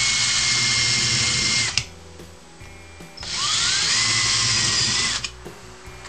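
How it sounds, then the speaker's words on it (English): An electric drill whines at high pitch through a metal jar lid in two long bursts, separated by a short pause with a quiet mechanical hum. "I'm going to drill two holes close to the center."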